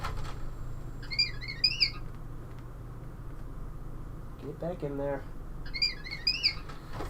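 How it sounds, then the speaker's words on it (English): Electronic R2-D2 style beeps and warbling chirps come from a custom Xbox 360 console, three short bursts spread across the stretch, with people talking in between and over a low background hum. "No, it's a R2-D2 sound effect."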